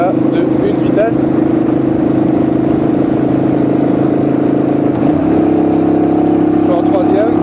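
Honda Shadow VT 600 motorcycle accelerating in first gear: loud, continuous engine drone with a steady thrum, shifting to a lower note about two-thirds through, heard close up.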